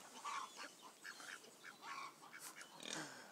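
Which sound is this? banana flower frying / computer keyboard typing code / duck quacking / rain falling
duck quacking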